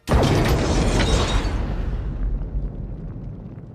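A loud, sudden movie explosion blast bursts out, then rumbles and crackles as it slowly fades away.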